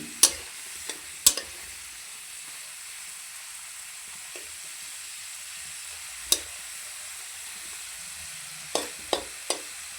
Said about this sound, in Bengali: দেখা যাক হয়ে আসছে আমাদের আলুটা আর এক দু মিনিট ভাজলেই হয়ে যাবে